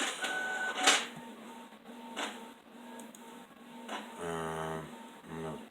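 Inkjet-style printer running a print job: repeated mechanical whirring passes of the print head with clicks and a brief rolling paper-feed buzz near the end, close and steady with no talk.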